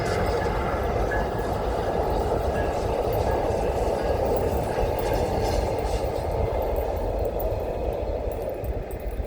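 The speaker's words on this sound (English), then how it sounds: "we got to see an Amtrak train go by on its way to San Diego" An Amtrak passenger train bound for San Diego rushes past nearby, a loud continuous roar of wheels on rails that holds steady throughout.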